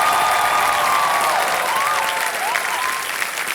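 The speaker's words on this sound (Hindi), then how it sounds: "जोर से आपने ताली बजाई सर" Studio audience applause on the set of Kaun Banega Crorepati Season 14: a loud, dense, sustained wash of clapping that holds steady throughout with no talking over it.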